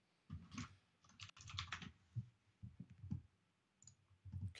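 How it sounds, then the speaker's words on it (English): Close-miked typing on a computer keyboard, irregular bursts of soft clicks and thuds with brief gaps between them, heard alone without any talk. "Just let me type directly in front of the microphone."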